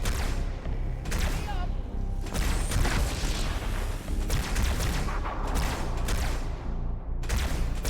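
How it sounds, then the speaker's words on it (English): Grenade blasts and gunfire rumble through a Halo 2 firefight, a steady loud wash of booms and shots with several sharp bursts, as game characters shout and talk over the battle. "Did you just throw a grenade and blow yourself up?"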